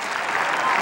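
Crowd applause at a 1993 Syracuse versus Towson college lacrosse game, a short steady burst of clapping from a large stadium crowd, fairly loud and continuous.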